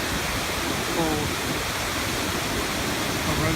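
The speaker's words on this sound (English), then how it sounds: "ferocious waterfall. This is the Simmenfalle." Simmenfälle waterfall on the Simme river in Switzerland, a steady, loud broadband roar of falling water filling the whole clip without a break.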